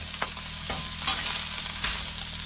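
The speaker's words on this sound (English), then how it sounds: "this is the first time that I've ever tried to cook a steak on the griddle" A ribeye steak sizzles loudly and steadily on a hot griddle at an off-grid cabin in the woods, a close, continuous crackling hiss with a few sharper pops.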